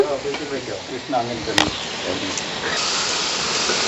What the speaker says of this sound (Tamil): 5 நிமிஷத்துக்கு இந்த சிக்கன் மசாலாவிலே வதங்கட்டும்.